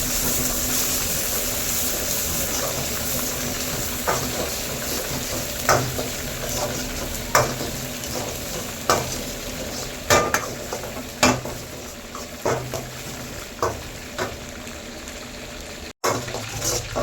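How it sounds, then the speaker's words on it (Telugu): Onions and green chillies fry in oil in a kadai under a steady, close sizzle, with a spoon scraping and stirring in repeated short strokes every second or so, and no one talking. "కొద్దిగా ఆయిల్ పోసుకొని బాగా ఫ్రై చేసుకోవాలి ఆనియన్స్ పచ్చిమిర్చిని"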